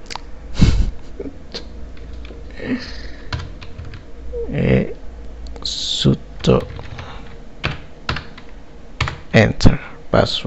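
Someone types a password on a computer keyboard during a Ubuntu install, giving scattered clicky keystrokes in short bursts, close and moderately loud, with some faint background sounds between presses.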